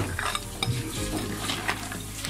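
Beef nihari being stirred in a pot after a spiced tempering, short scraping and clinking strokes of a spoon over a soft simmering sizzle, close and brief.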